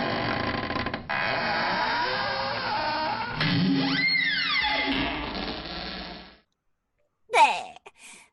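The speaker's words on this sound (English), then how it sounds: "I'm still opening my very large front door." A very large front door creaks open in slow, drawn-out groaning whines that rise and bend in pitch over several seconds, then fall silent before a brief final squeak.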